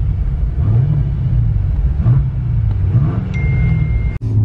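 A BMW M5 Competition engine runs close by with a steady, deep, throbbing rumble that rises slightly in a few surges and holds throughout, with a brief dropout near the end.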